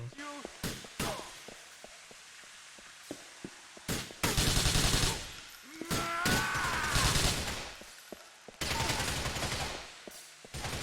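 Gunfire in Grand Theft Auto IV, sharp individual shots followed by loud sustained bursts of automatic fire in several clusters, close and punchy.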